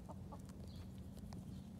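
Soft, scattered clucking from a black rooster over a steady low farmyard hum, with a few brief higher chirps from young hens.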